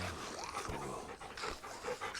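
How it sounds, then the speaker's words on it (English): A dog pants softly while being petted in the video game Final Fantasy 16, with quick breathy huffs and a faint whimper under a low background hum. "Let's pet the dog."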